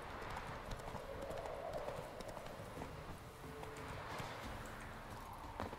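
Horse hooves clip-clop at a steady walking rhythm in The Witcher 3, soft and fairly distant beneath a low ambient game bed, with no talking.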